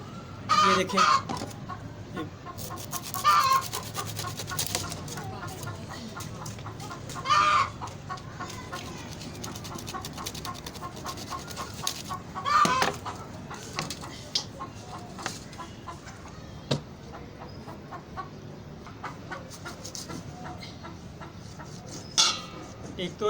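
Laying hens cluck repeatedly nearby in a poultry setting, with louder bursts of clucking every few seconds over a low background and some speech mixed in.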